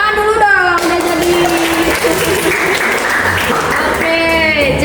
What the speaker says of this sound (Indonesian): tepuk tangan dulu dong, udah jadi.